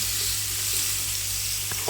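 Food fries in a pan with a close, steady sizzle and hiss, joined by a low continuous hum and a couple of faint clinks near the end, with no talking.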